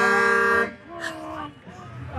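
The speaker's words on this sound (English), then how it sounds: "there's a whole lot of honking going on right now" Loud, sustained blast of semi truck air horns at a holiday parade, a stacked chord of tones cutting off sharply, followed by people talking over lighter crowd noise.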